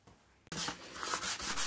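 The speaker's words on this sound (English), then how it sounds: "As a last-ditch effort, I tried sanding it down." Yellowed old plastic from a Lucas 16W wiper motor on a Triumph TR7 is hand-sanded after a quiet start, a close, rough scraping with uneven rubbing strokes.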